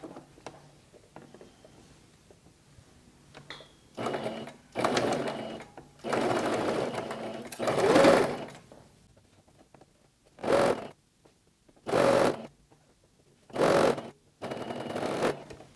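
Sewing machine stitching a cotton fabric face mask, running in several bursts of varying length separated by short pauses, close and fairly loud with a whirring motor tone.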